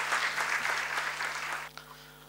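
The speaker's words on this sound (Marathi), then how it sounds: "आपण हे जोरदार टाळ्या वाजवून त्यांचं अभिनंदन करूया" Audience at a Marathi author-meet event claps to congratulate the guest speaker, a short burst of steady applause that thins out and fades near the end.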